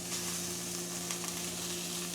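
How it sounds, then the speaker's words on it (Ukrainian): Cabbage sizzles in oil in a frying pan, a steady close hiss with occasional crackles and a faint stirring scrape, no talking. "І кидаю капусту смажитись."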